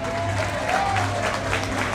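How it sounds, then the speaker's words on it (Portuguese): A crowd claps steadily in a sustained round of applause at a metal music festival, with a faint tone running underneath. "Queria uma salva de palmas para ele, por favor."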